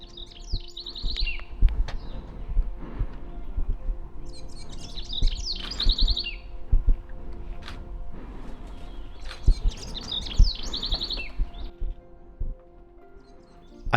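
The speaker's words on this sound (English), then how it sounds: "I dialed back a little bit on the voiceover so you could appreciate some of those bird calls" Birdsong in Southeast Arizona: repeated bright chirping phrases come in bursts every few seconds, fairly close and clear over a quiet outdoor background with faint thumps and rustles.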